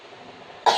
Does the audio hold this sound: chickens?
no